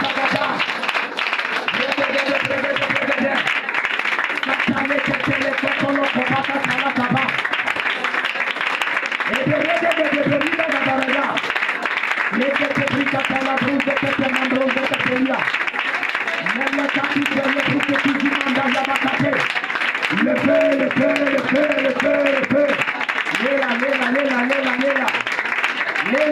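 A congregation at an evening prayer service applauds and cheers continuously, a dense wash of clapping and crowd noise running throughout while a voice chants or sings in rhythmic phrases over it.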